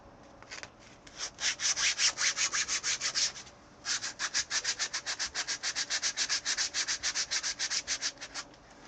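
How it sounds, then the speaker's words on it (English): Rhythmic back-and-forth scrubbing of old paint off a metal square, close and steady with quick repeated strokes, a short pause midway before the scrubbing resumes. "It's just scrubbing all the old paint off of this."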